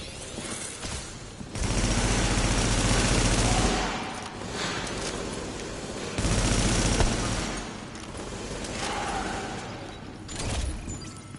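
Gunfire in The Division: loud sustained automatic bursts in several long waves, with short gaps between them and a fainter tail at the end.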